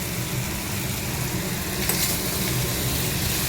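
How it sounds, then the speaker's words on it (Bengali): Spices frying in oil in a pan while cooking a vegetarian Bengali meal, a steady, dense sizzle holding at an even level throughout with no one speaking. "মশলাটা ভেজে নেই।"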